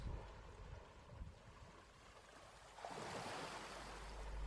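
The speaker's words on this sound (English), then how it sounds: "Maybe even hearing the waves down on the shore below" Ocean waves rolling onto a shore below a cliff top, a steady soft wash that swells into a louder breaking surge partway through, heard at a distance and fairly faint.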